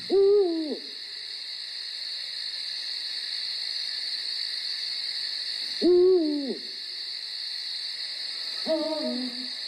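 A pair of owls call back and forth in a night setting, three separate hooting bursts spaced several seconds apart, clear and fairly close over a steady high drone of insects.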